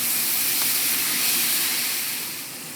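Minced meat browning in a pan for Tex-Mex chili, giving a steady, fairly loud sizzling hiss that holds evenly and fades slightly toward the end.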